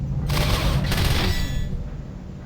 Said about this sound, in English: Let's shoot at this guy.